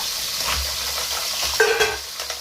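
Small mussels stirred and sizzling in a frying pan, a steady crackling fry close by with light clinks and scraping of the utensil.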